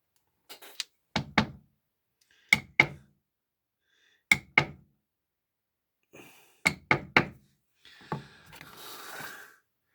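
A metal beveling tool struck on leather: sharp, close mallet taps in pairs and triplets separated by silence, ending with a brief rustle.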